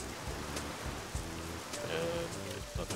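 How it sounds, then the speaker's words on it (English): Heavy rain pouring at night in The Sims 2 DS, a steady hiss of rainfall over a low looping game tune, with a faint electronic chime partway through. "It's just pouring at like almost 2 in the morning."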